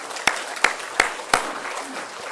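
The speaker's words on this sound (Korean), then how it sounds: "박수 한번 보내봅시다." Members of a church congregation clap a few times during a sermon, four distinct, spaced claps ringing out in an irregular rhythm at close range in a reverberant room.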